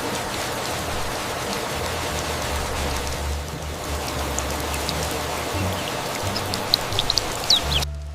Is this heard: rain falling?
yes